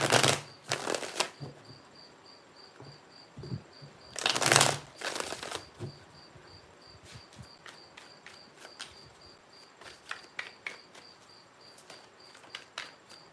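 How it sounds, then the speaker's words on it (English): Tarot cards are riffled and shuffled in a few quick bursts, separated by softer taps and handling noises against a faint steady hum. "Three shuffles."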